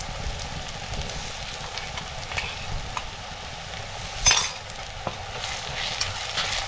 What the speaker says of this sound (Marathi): पेस्ट पण मस्त फ्राय करून घेऊया.